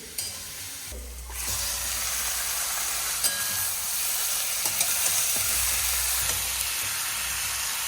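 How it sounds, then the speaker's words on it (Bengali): Chopped onions fry in hot oil with whole spices and a little sugar over a high flame, a loud, dense, continuous sizzling hiss with occasional stirring knocks, close up and with no talking. "পেঁয়াজ কুচিগুলো বেশ ভালো করে একটু ভাজা ভাজা করব"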